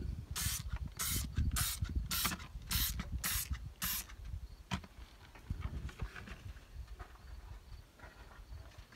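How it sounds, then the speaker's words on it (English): Easy-Off oven cleaner sprays from an aerosol can onto old tires in about seven short, sharp bursts, close and distinct, followed by quieter handling noises. "Easy off oven cleaner to strip old tires."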